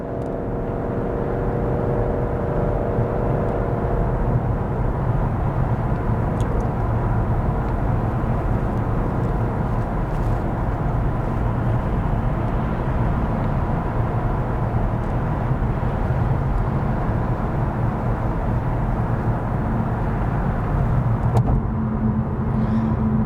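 A loud, steady low engine roar from a car with a worn muffler, droning on for a long stretch without letting up, with a brief higher whine near the end.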